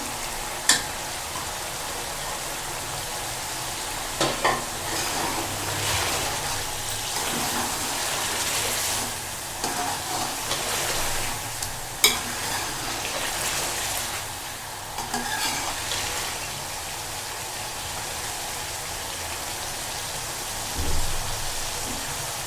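Julienned ginger stir-frying in a chicken karahi, a broad, even sizzle like light rain with occasional scrapes and knocks of stirring, no voices.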